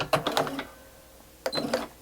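A sewing machine stitching decorative veins on a fabric poinsettia pot wrap, two short bursts of close mechanical chatter separated by a pause.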